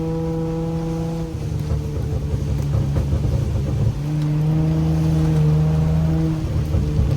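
Honda Accord V6 engine on a rainy road, a low steady drone that rises in pitch as the car accelerates, with wet road hiss underneath and no talking.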